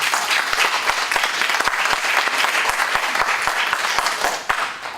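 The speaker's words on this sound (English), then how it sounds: "you guys deserve a round of applause" Sustained audience applause at a media gathering, dense steady clapping from a sizable crowd filling the room, loud and continuous with no voices on top, easing slightly near the end.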